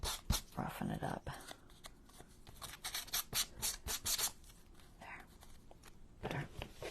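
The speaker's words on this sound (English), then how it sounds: "just kind of maybe throw some sandpaper on it or something" Sandpaper scrubs a paper journal page to roughen it, coming as bursts of close, dry rasping strokes with short pauses, quiet overall, with faint talk in places.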